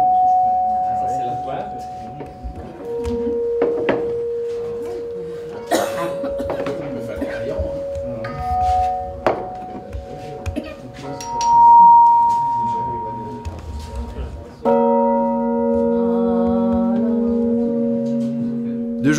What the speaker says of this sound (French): Une cloche est un véritable instrument de musique.